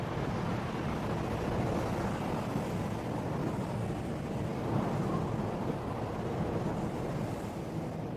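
A storm of steady roaring wind and rushing, surf-like noise, with low thunder rumbles mixed in, sweeps over a bald eagle's nest. The dense, even wash stays loud throughout and no one speaks.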